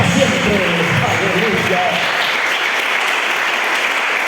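A church congregation claps and cheers loudly at a Spanish-language evangelical worship service. The dense, steady applause fills the whole stretch, with a preacher's voice briefly heard under it at the start.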